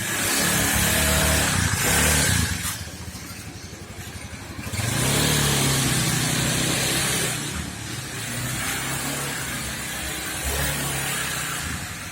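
A Honda Beat FI scooter converted from fuel injection to a carburetor, revving and pulling away on a test ride, engine surging in bursts, easing off, then climbing again, fairly close and with no talk.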